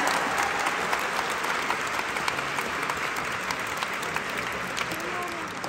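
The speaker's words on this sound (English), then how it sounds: "please give a round of applause for these wonderful musicians" An audience at a concert in Calgary applauds the accompanying musicians, a steady dense wash of clapping heard throughout at moderate distance.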